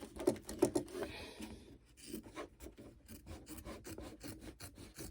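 Scissors trimming away excess embroidery stabilizer, close rhythmic snipping and rubbing cuts, quick bursts followed by a steady run of rasping strokes, fairly quiet.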